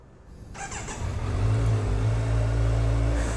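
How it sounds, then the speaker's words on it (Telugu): Kawasaki Z900 motorcycle cranking over on a cold start and catching, settling into a loud, steady low idle rumble close by with no talk. "సో కోల్డ్ స్టార్ట్ చేసినప్పుడు చాలా ఎక్కువ సౌండ్ వస్తుందన్నమాట"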